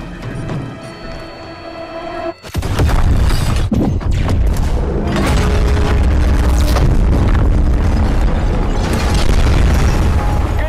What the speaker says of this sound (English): How about some fireworks?